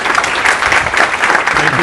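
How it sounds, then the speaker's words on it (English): An audience at a business talk gives a big round of applause, loud continuous clapping throughout, close and dense with crowd noise mixed in. "Please give them a big round of applause, ladies and gentlemen."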